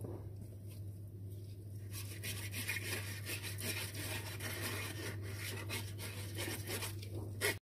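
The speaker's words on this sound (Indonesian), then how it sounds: "Akan saring lebih dahulu tape sehingga batang-batang ubi yang tercampur ke dalam akan tersisa atau terbuang ya" Fermented cassava tape is pushed through a sieve, giving soft close rubbing and scraping strokes that begin after a quiet moment and continue steadily over a low constant hum.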